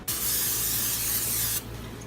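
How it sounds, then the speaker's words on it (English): Pam coconut oil cooking spray shoots out in a single steady hiss lasting about a second and a half, close and clear, then cuts off abruptly. "I'm using Pam coconut oil cooking spray here"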